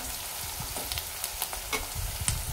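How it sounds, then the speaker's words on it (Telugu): Onions and green chillies fry for a Telugu sorakaya (bottle gourd) curry, giving a soft, steady sizzle with scattered crackles and light pops, close by and moderately quiet, with no voices. "ఆనియన్స్, పచ్చిమిర్చి అయితే ఇంకా వేగాలి."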